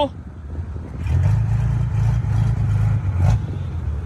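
A heavy diesel engine of a Caterpillar 312 excavator rumbles and revs up, its deep exhaust note steady and close, with faint voices in the background.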